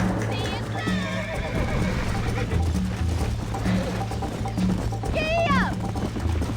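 A horse gallops and neighs in the western video game Red Dead Redemption: rhythmic hoofbeats run throughout, and two shrill whinnies sound near the start and near the end, with a voice calling out over them.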